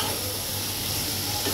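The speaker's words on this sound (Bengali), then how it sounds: "আর সবজিটাকে খুব সুন্দর করে কম জালে ভাজা ভাজা করব" Vegetables with coriander and turmeric fry on a low flame for a fish charchari, giving a steady, close, continuous sizzle and hiss with no breaks.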